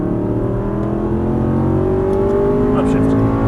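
A race car accelerates hard on a track under full throttle, its engine a loud close rising whine with layered harmonics, while a person talks over it.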